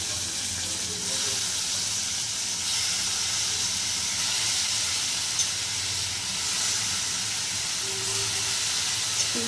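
Tomatoes and turmeric hissing in a hot pan while a home-style Indian tomato curry cooks, a steady broadband sizzle holding for several seconds with no talk over it.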